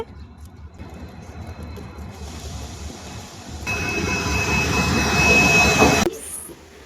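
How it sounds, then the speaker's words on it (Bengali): A train rumbles and hisses loudly close by as it arrives at a crowded station, the roar building up and holding before cutting off abruptly, with a low background din throughout. "বন্ধুগণ ফাইনালি এখন আমরা ট্রেন আই গেছে"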